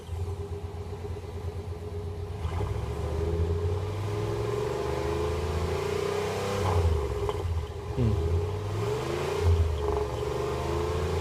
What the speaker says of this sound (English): That is a turbo exhaust whistle.